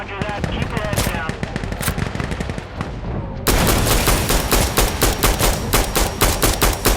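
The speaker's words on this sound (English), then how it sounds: "Station, this is Observer calling for explosive artillery on this position." Explosive artillery strike in Insurgency Sandstorm: a noisy stretch of game sound and radio-style voices gives way to a sudden loud barrage of rapid blasts and gunfire that keeps pounding to the end.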